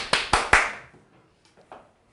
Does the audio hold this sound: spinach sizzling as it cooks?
no